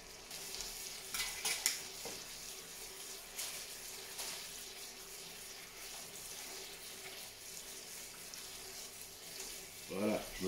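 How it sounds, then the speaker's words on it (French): Leg of lamb searing in a hot pan, a steady close sizzle with occasional stirring and scraping, fairly quiet overall. "je vais commencer par rôtir, voilà, une face comme ceci"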